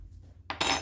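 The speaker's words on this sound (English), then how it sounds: "Gotta grab another spoon real quick." A metal spoon grabbed from a drawer of cutlery in a home kitchen, a short bright clatter and jingle of silverware after a near-silent moment.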